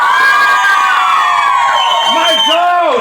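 A loud crowd shouts and cheers together in a dense, continuous roar, with whoops and higher voices rising above it, at an event in Bahia.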